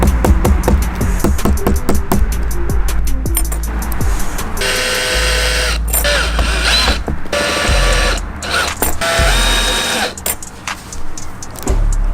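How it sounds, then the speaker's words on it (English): Screws being tightened on a DIY mirror self-cut system with a power tool, producing a rapid ratcheting clatter of clicks and then loud buzzing motor whirs in several close bursts. "then I tighten up the screws"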